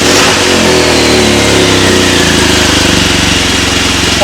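A BMW R1200GS motorcycle with its standard exhaust can revs loud and close while in neutral, throttle blips rising over a throbbing idle.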